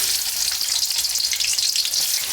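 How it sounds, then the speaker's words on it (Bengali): Chopped onion hits hot oil in a home kitchen, a loud, dense, continuous hiss of frying that stays steady and close throughout. "পেঁয়াজ কুচি দিয়ে দিব"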